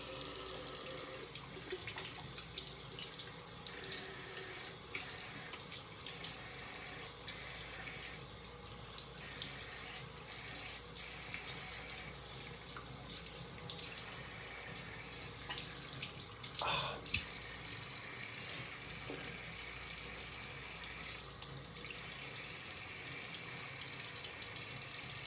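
Tap water runs steadily into a sink while a razor is rinsed off after a wet shave, a continuous close splashing hiss that lasts throughout with small clatters and no talking.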